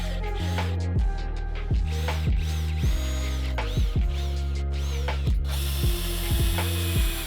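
A power driver drives screws through a plywood panel into wall studs in an off-grid build. Loud, close, steady motor whirring in repeated bursts is broken by sharp clutch clicks and ratcheting stops, with no talking.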